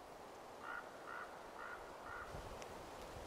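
A raven calls in a forest, four evenly spaced hoarse croaks at moderate distance over a steady outdoor background hiss.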